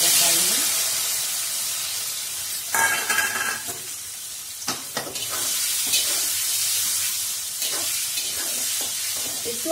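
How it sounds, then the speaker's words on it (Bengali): Paneer cubes frying in a pan for matar paneer, with steady loud sizzling and bursts of stirring and spatula scrapes throughout, no talk. "পনির গুলো আমি সবই ঢেলে দিচ্ছি"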